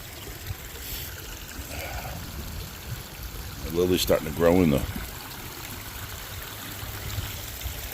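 Water trickles steadily down a small garden pond waterfall among mossy rocks, a soft continuous stream in the background with a person talking briefly over it.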